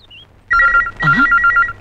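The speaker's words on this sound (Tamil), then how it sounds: "நம்ம முகருக்கு ஃபோன் வருதா?" A telephone rings loudly and close by, a steady electronic trill in repeated pulses, with a brief vocal-like sound partway through.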